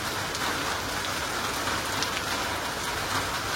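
Heavy rain pours steadily on a surface outdoors, a dense, even hiss of drops close by with no let-up and no voices.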